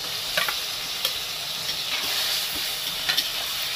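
Onion, garlic and ginger paste frying with softened tomatoes, a steady bright sizzle and hiss with occasional stirring clicks, close and continuous.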